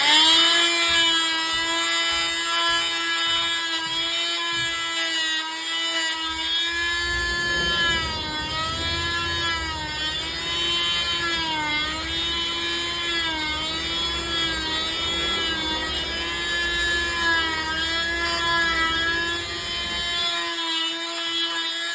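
A power drill fitted with a wood bit bores through the foam of an ICF wall, giving a steady, loud whining motor drone that runs for about twenty seconds, its pitch wavering slightly as the bit cuts.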